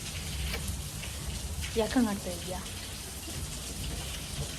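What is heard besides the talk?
heavy rain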